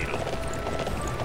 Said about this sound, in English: how fast the horse can run if you have it maxed out